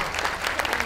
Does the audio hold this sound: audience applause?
yes